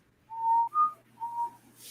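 A person whistles three clear, sustained notes of a short tune, close and steady, the middle note slightly higher, with no one speaking.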